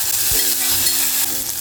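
Half a chopped tomato dropped into hot tempering oil for Konkan-style val (field bean) birde usal, giving a steady loud sizzle and frying crackle throughout, with a brief thump near the start and no talking.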